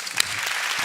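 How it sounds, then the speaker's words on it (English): Brief burst of audience applause for Brian Greene and Richard Dawkins, a sharp clap near the start followed by a soft, fairly distant patter of clapping. "Let's give a big round of applause for Brian Greene and Richard Dawkins"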